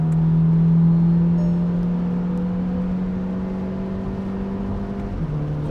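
A car engine drones steadily at high revs as it accelerates down a straight during an endurance brake test, the pitch climbing slowly before a slight drop near the end, loud and close with no talking.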